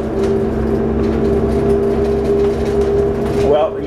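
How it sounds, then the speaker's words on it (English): A bus pulls away with a steady engine drone and low rumble, holding a constant hum throughout, heard from inside the vehicle before a brief shift near the end. "And now the bus is moving"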